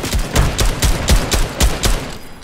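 Rapid video game gunfire cracks out in a loud, close burst of evenly spaced shots, roughly a dozen reports in quick rhythm that taper off slightly at the end, with no talking.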